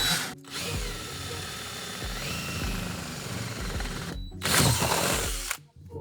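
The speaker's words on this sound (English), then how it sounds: "Got the 1/2-inch drill bit here." A power drill with a half-inch bit whines loudly and steadily, briefly stopping and restarting with a harder grinding burst near the end.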